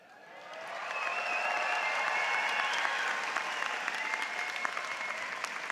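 Applause from a large audience at a college commencement ceremony, swelling quickly and holding as a dense, steady wash of clapping.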